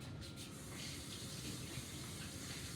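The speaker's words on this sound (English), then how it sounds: "I'm going to wash my hands" Cold tap water running into a sink as hands are washed, a soft, steady, continuous splashing stream at low volume.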